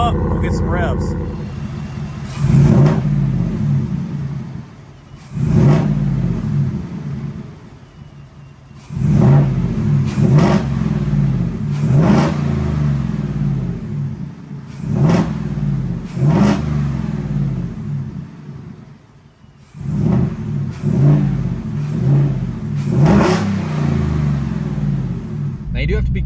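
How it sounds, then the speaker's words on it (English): A car engine fitted with an S&B cold air intake revs up repeatedly in loud bursts while warming up, each rising roar falling back to a rumbling idle, close by. "So I'll let it warm up. We'll get some revs."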